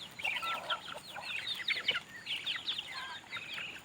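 Chickens of a hybrid breed cluck softly in overlapping bursts outdoors on a farm, faint and fairly distant with a hiss of background noise.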